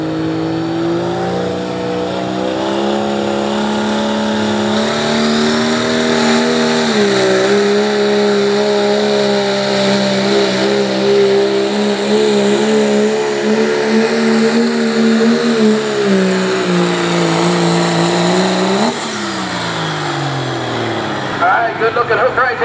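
A 1997 Dodge diesel pickup in the 2.6 diesel class roars loudly and continuously while pulling a sled at a truck and tractor pull in Caldwell, Ohio, its engine pitch climbing and holding, then dropping off near the end, with a voice over the noise.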